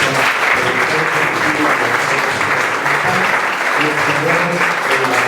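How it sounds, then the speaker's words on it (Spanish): Loud, sustained audience applause welcoming guests at a lecture on danzón norteño, dense overlapping clapping from a sizable crowd that continues without a break, with faint voices mixed in beneath. "Fuerte el aplauso para ellos."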